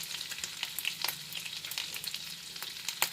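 Cumin seeds sizzle and crackle steadily in melted butter in a pan, with scattered stirring scrapes and small pops close up, and no one talking.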